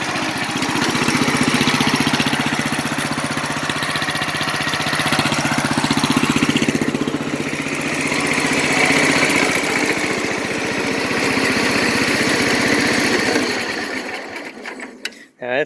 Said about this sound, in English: Now that's what I call a cold start.